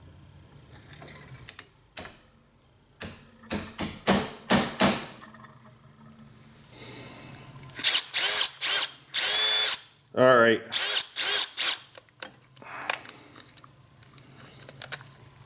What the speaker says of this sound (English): I'm going to drill with this little guy